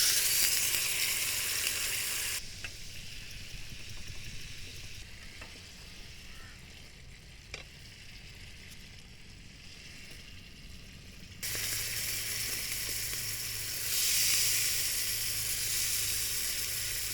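A steak sizzles over a campsite fire on an island, a bright crackling hiss that drops quieter for several seconds, then swells loud again toward the end.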